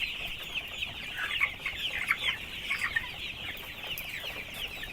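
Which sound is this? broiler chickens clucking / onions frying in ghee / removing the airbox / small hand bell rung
broiler chickens clucking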